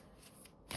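Moon Child Tarot cards are shuffled in a continuous soft riffling and sliding, close and quiet, ending in a brighter flutter.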